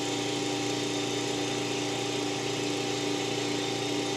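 An Eastwood QST 30/60 scroll air compressor runs steadily as it fills its tank, giving a constant, even hum with a low drone, unbroken and close, with no voices.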